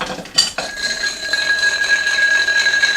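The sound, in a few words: stirring ice in a glass for a martini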